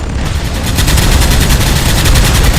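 Ion cannons in the Strike Tactics strategy game fire as a dense, continuous barrage of rapid crackling blasts that stays loud and steady throughout.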